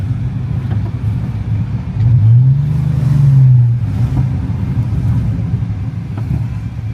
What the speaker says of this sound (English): We'll go for a little cruise in the truck, and we'll get some nice rolling shots.